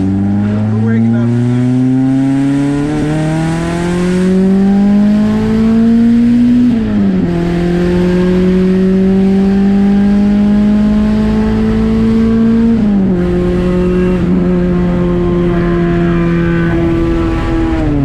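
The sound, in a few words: Honda Accord H23A engine exhaust revving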